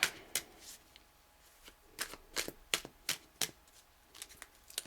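Tarot cards are riffled and shuffled by hand in a string of quick, crisp bursts, close up with short pauses between them.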